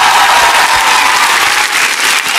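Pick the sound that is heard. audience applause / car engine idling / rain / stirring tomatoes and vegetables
audience applause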